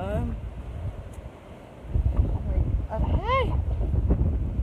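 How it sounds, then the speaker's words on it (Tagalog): Strong wind outdoors in Florida at 7 AM buffets the microphone in low, gusty rumbles that swell and ease, with a voice exclaiming and chattering over it. "Ang lakas-lakas ng hangin."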